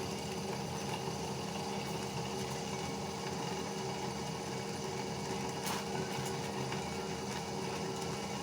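Electric motor of a farm machine on a backyard broiler smallholding runs at normal working temperature, giving a steady, even mechanical hum with a broad whirring noise that holds without pause from start to end.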